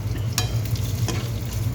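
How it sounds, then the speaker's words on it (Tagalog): Tomatoes drop into a pan where potatoes are already frying, giving a steady close sizzle with two brief splashy hits as the pieces land. "Hulog na nga din natin tong kamatis"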